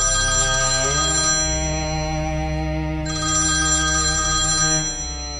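A mobile phone ringtone rings in a movie theater, a loud, steady electronic melody with sustained tonal notes that changes pitch twice before fading.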